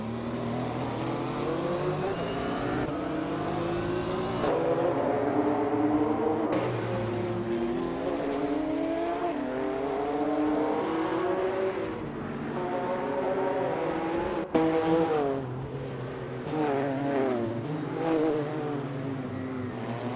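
A 1996 Porsche 911 GT1 race car in a racing video game, engine droning and shifting pitch continuously as it accelerates through gears, with a brief sharp transient midway and no speech.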